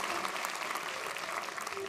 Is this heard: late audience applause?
yes